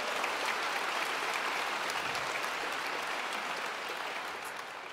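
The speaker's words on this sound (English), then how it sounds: "a round of applause for everybody" A concert hall audience applauds at an orchestral celebration for International Women's Day, a dense, steady wash of many hands clapping at once that holds loud throughout and eases slightly near the end.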